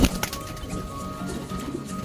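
A pet bird named Pencil gives soft, low cooing calls over a rough, steady background of rustling noise, with no one talking.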